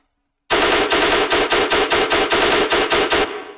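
Rapid, punchy synthesized gunfire bursts, layered Moon Boy gun samples processed with Spec Ops, in a steady rhythmic stutter, loud and close, stopping abruptly with a short decaying tail.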